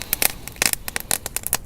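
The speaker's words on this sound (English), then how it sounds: "Nice crackle to fire." Flint-and-steel fire crackling close by, a quick irregular series of sharp pops and snaps with no voices.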